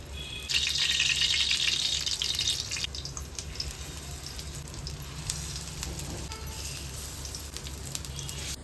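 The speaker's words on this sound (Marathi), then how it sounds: "आता हे तव्यात तेल टाकलेलं आहे हे मध्ये टाकून आपण शेलो फ्राय करून घेऊया" Thin-battered slices are shallow-fried in oil on a griddle pan: a loud, bright sizzle bursts up as they go into the oil, then settles into a softer, continuous crackle, close by and with no voices.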